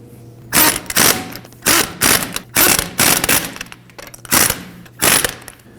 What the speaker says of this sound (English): We'll go ahead and snug those down in a crisscross pattern with a 21 millimeter.